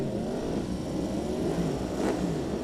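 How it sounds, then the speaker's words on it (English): Several superbike engines rev together on a race starting grid in a dense, continuous roar, a thick wall of engine noise with one brief higher-pitched surge. "Revs are going up."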